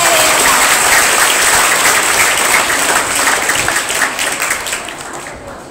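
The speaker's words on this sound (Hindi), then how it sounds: "एक बार जोरदार तालियों के साथ स्वागत करें।" Loud, sustained audience applause at a celebration ceremony, a dense wash of many hands clapping that stays steady and then gradually thins and fades toward the end, with no speech over it.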